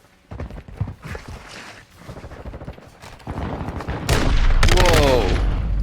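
Marksman rifle fire in the Modern Warfare 2 video game cracks out in rapid bursts that build to a dense, loud volley toward the end.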